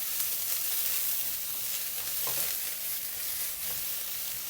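Red onions frying in a pan over medium heat, a steady close sizzle and hiss throughout with faint scrapes of stirring, no voices.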